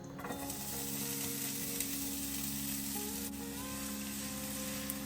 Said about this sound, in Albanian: dhe më pas do të skuqim qepën.